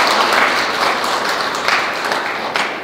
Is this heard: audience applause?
yes